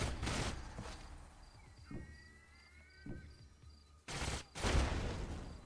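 Ranged units open fire on an enemy in the sci-fi strategy game Age of Wonders Planetfall: a few short bursts of gunfire at the start and near the end, with quieter clicks and faint chirping between them.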